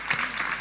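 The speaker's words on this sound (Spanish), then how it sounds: "Así que un aplauso para Daría y para Gemma." Audience applause at a diabetes and women event, a steady patter of clapping from a crowd filling the short moment without pause.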